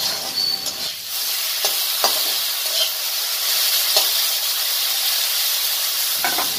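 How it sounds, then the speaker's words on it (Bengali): Potatoes and chopped tomato fry in hot oil in a pan for a vegetarian dish, with a steady loud sizzle and several spatula scrapes and knocks as they are stirred. "টমেটো কুচি দিয়ে আর এখানে আলা আমরা কাটাকাটি করিয়ে ভাজি নিব।"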